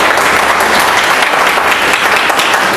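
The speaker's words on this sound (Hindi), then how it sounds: "तो अपने लिए ताली बजा लो" Audience applause at a motivational team meeting: loud, dense, sustained clapping from a large crowd filling the whole stretch without pause.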